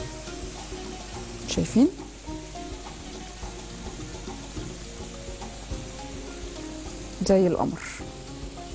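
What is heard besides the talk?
rice kofta frying in oil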